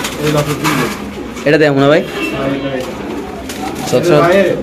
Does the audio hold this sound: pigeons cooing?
yes